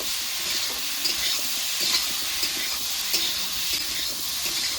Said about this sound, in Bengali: নেড়ে চেড়ে মশলার সঙ্গে আলুটাকে কষিয়ে নেব